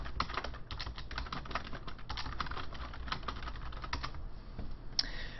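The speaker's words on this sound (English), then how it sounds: "I just have to type something." Rapid clicking of keys on a computer keyboard, a steady close-up flurry of typing strokes with brief pauses, heard alone without speech.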